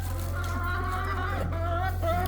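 Chickens cluck and murmur softly over a steady low hum, several birds chattering close by in short wavering calls.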